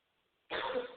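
A single harsh cough bursts out after half a second of near silence, loud and close, rasping on for the rest of the moment.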